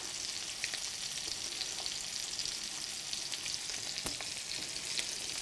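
Salmon pan-sears in a frying pan with a continuous, close hiss of sizzling oil, punctuated by occasional small pops and crackles.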